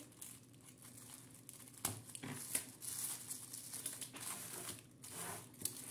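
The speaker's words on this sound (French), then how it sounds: "je vais prendre le cutter et ouvrir délicatement" Quiet crinkling and rustling of packaging, with a few sharp scraping cuts and tearing sounds scattered through, close up.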